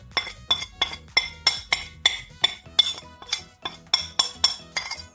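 Dry carrot cake ingredients stirred into flour in a bowl, a spoon clinking against the bowl in a steady rhythm of about a dozen close, bright knocks, with no talking.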